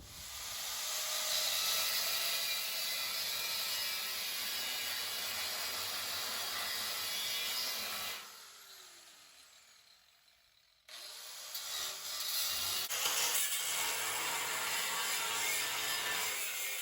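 Metal is cut for a hot rod's front crossmember with a loud, continuous grinding hiss close by, pausing briefly midway, then resuming for several more seconds.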